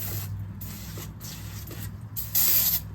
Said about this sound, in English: I'm gonna spray it here anyway.